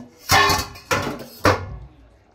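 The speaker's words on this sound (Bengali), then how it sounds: "এবারে আমি ঢাকনাটা সরিয়ে নেব।" Three sharp metallic clanks with short ringing tails as a lid comes off and knocks against a pot of simmering fish curry, close and loud, then quiet.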